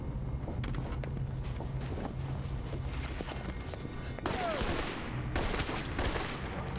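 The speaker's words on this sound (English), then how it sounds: "Stop shooting at me, it's rude." Rapid gunfire bursts from the video game Alpha Protocol crackle continuously through a noisy firefight, with heavier volleys toward the end and faint speech mixed in.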